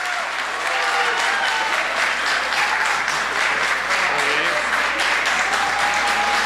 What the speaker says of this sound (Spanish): Le brindamos un aplauso